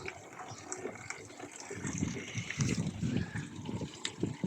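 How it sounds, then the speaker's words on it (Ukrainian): Tap water gushes steadily into a bucket outdoors, a continuous splashing fill that grows fuller and louder as the level rises, with faint voices in the background. "пустили воду"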